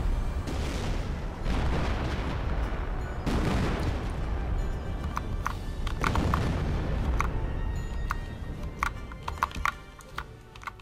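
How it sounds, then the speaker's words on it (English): Artillery bombardment in Company of Heroes: Opposing Fronts, with several loud, rumbling booms rolling in close succession, followed by sharper cracks and clicks of gunfire and mouse or keyboard taps. "We're gonna continue bombarding this place."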